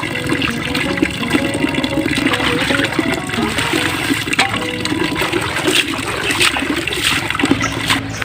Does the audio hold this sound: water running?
yes